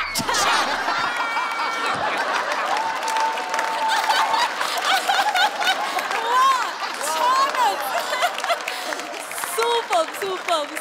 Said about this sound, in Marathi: जोरदार टाळ्या सगळ्यांसाठी.